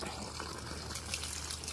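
Reject water from a water refilling station pours out in a steady, continuous gush, a soft broadband rush that stays at an even level throughout.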